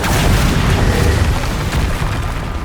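A Bombarda exploding spell goes off in the video game Hogwarts Legacy, a loud, dense boom that rolls on with a sustained roar for a few seconds.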